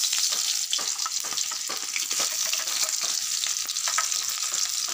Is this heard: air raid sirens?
no